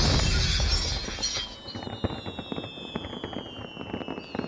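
Fireworks in The Grinch PS1 video game go off as a burst of whooshing noise, followed by rapid crackling pops alongside a thin whistling tone.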